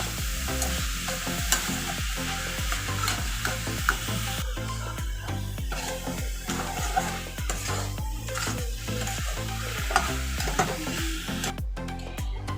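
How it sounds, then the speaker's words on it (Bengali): Sugar and grated coconut stirred together in a pan as the sugar melts for coconut naru sweets, a steady rhythmic scraping of the spoon over a soft sizzle, close and continuous with no talking. "চিনিটা কিন্তু এভাবে নাড়াতে নাড়াতে গলে গেছে"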